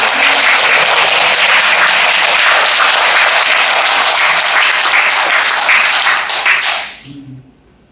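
Sustained applause from an audience at a Catholic bishop's lecture in a church, loud and dense clapping filling the space for about seven seconds before fading out, with a voice briefly starting up at the end.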